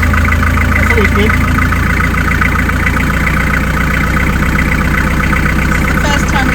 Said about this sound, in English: This is the first time we've heard the engine in over 2 months.